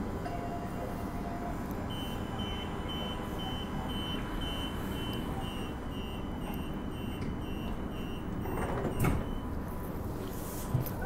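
Train doors slide shut at a station on a suburban line, with a steady warning beep tone over low rumbling carriage noise, followed by a clunk and a brief thud near the end.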